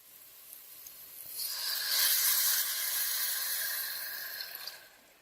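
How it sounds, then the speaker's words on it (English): Tomatoes and vegetable broth in a pot give off a broad, airy hiss that swells quickly, holds for a few seconds, then fades, with no talking over it. "And I let that simmer with the vegetable broth for about another 2 to 3 minutes."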